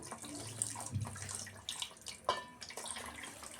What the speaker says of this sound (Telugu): గ్రేవీ కోసం వాటర్ వేసుకుందాం